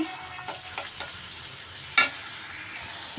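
Onions frying in a couple of spoons of oil in a pan, a constant close sizzle broken by several sharp spatula taps and scrapes against the metal, no voices.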